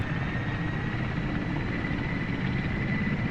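Twin turbine engines of a Mi-8 helicopter in the DCS flight simulator run at a steady, loud whine and rumble throughout, continuous with no talking.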